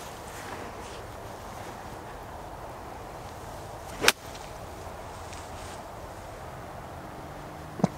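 Outdoors on a golf course, a pitching wedge strikes a golf ball with one sharp crisp click midway, under steady wind noise, and a second fainter click follows near the end.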